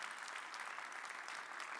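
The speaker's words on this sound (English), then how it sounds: "Yeah, for sure you should clap." An audience at a sales divisional session applauds, a dense, even patter of many hands clapping, faint and distant throughout the brief moment.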